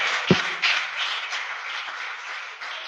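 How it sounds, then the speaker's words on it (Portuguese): Church congregation applauding during a sermon, a dense wash of clapping filling the space steadily, with a sharp thump near the start and no voices standing out. "Você pode aplaudir o Senhor por isso"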